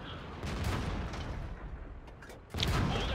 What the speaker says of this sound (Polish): Teraz strzelił we mnie.